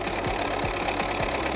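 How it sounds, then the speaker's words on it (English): A sewing machine runs steadily while stitching a quilt block made from strip sets, its needle thumping in a fast regular rhythm of roughly two and a half beats per second over a constant motor hum, close and alone. "I'm just gonna let the sewing machine finish its job"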